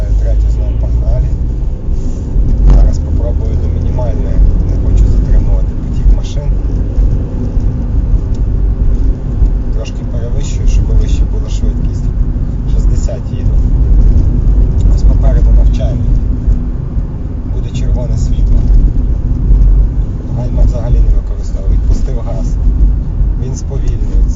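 Car with a manual gearbox coasting down through the gears on engine braking, a continuous loud rumble of engine and road noise inside the cabin, with someone talking throughout.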